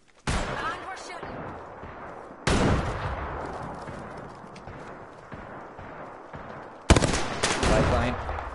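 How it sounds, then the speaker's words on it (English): Bursts of gunfire in the video game Apex Legends: three sharp volleys of rapid shots with dense crackling between them, loud and close, mixed with game sound and some speech. "And we're shooting."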